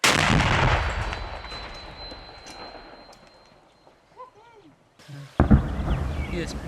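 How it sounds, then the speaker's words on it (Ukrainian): A distant artillery gun of a Ukrainian territorial defense brigade booms, followed by a sharp nearby blast and rumbling noise; wind and faint background sounds fill the quieter stretch between. "Постріл! Постріл!"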